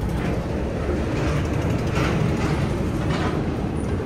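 Steady broadband rumble of the Tirupathi to Kacheguda Sankranthi special train running, heard from on board as it passes over another line near Secunderabad; continuous rolling noise with faint mechanical rattles, no voices.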